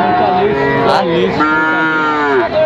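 A Sahiwal bull calf at a cattle market lets out a loud, close, drawn-out moo with wavering pitch, followed by a second moo, with faint market noise in the background.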